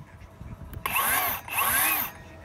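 A 36-volt cordless saw runs in two short bursts, each whining up to a loud, high-pitched spin and then cutting off, with a brief pause between them, while work happens on a tube steel column.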